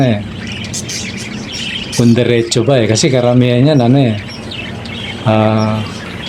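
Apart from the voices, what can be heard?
bird chirping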